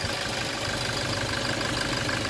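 A Toyota Innova E engine idles with a steady, even hum and a faint ticking rhythm, close and continuous with no voices.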